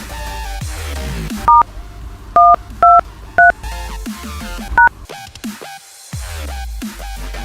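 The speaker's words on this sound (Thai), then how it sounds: "ตรวจสอบยอดเงินกดดอกจัน 123 เครื่องหมายสี่เหลี่ยมโทรออกครับ" Phone keypad tones dial a balance-check code, five short bright dual-tone beeps spaced unevenly over steady background music.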